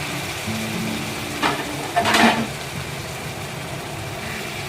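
Shrimp drop into a hot pan with spinach for spicy garlic shrimp, giving a steady sizzle with a brief louder hiss burst as they hit the oil.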